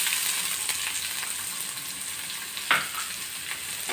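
Sliced onion sizzles steadily in hot oil with cumin and broken dried red chilli, a close bright frying hiss with a single sharp clink of a spoon against the pan near the end.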